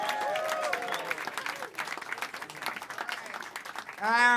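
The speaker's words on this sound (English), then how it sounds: "Start clap right now for Brian Lirot" A comedy club crowd at a pop-up comedy show claps for comedian Brian Lirot. The clapping is fairly soft and uneven, with voices and whoops over it and a louder burst near the end.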